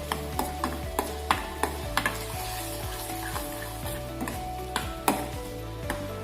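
Semolina halwa with milk and sugar being stirred in a pan, a continuous sizzle broken by repeated sharp scraping clicks of the spoon against the pan at an uneven rhythm.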